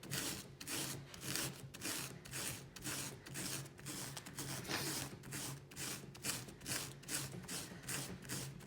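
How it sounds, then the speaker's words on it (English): Sandpaper is rubbed along lines on a denim jacket to distress it, producing quick, repeated rasping strokes at about two per second. The close scratchy sound stays steady and alone throughout. "you're gonna take your sandpaper and go along the lines"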